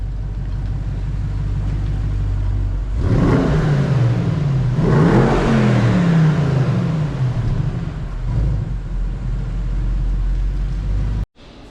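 A Bentley Continental with a crash-damaged exhaust, now repaired, revs loudly and up close: one sharp rise in engine pitch falls back, then a second longer rev climbs and settles to a steady rumble before it cuts off abruptly.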